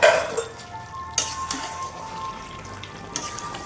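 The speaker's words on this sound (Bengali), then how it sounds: "এবার ঢাকনাটা তুলে একটু নাড়া দিয়ে দেবো।" Chicken frying in a pan, with a metallic clink of the lid being lifted followed by brief stirring scrapes over a steady low sizzle, close and fairly quiet, no talking.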